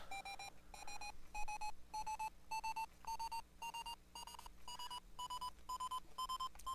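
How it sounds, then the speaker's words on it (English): An insistent video game alarm beeps in a steady run of evenly spaced electronic tones, about two per second, each pitched slightly higher than the last. It is fairly faint and plays alone. "that is a very insistent beeping"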